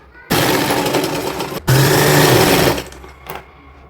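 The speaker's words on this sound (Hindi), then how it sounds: "हमने सिलाई इस तरह से लगा ली है।" A sewing machine stitches lining onto organza fabric for a little girl's designer outfit, running loud and close in two steady bursts with a brief pause between them, then trailing off.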